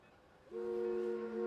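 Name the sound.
train horn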